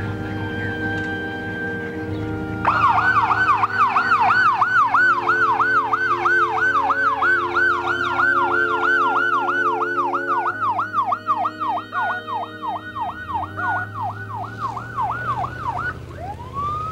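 A loud wailing ambulance siren cycles steadily up and down, close by, with a low engine rumble underneath and no talking.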